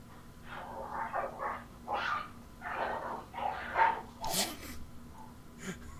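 Dogs barking in a run of short, sharp woofs and yips, fairly close, with a few louder high yelps near the end and no talk over them.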